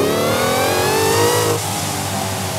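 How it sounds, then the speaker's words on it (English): A front-engined car in Forza Horizon 5 revs hard with the throttle floored, its engine note climbing steadily, loud and close, then easing off slightly as the revs settle. "if I floor it, then look what happens to the engine"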